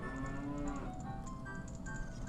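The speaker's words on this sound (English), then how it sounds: "Cow, I know." A cow moos in a video game, a low sustained bellow held for about two seconds over steady game background sounds, with no talking.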